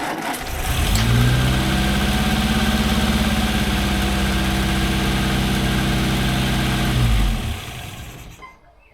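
A Morris 8 car engine, with oil washed down its cylinders, cranks and catches, then idles fast with a steady, loud, close throb before cutting off near the end.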